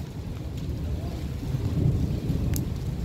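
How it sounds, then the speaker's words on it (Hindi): Deep rumbling thunder rolls through a heavy thunderstorm, a steady low roar that swells in the middle and stays loud throughout, mixed with wind and rain noise and no talking. "बादल की कैसी आवाजें आ रही हैं"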